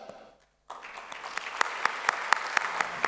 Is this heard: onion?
no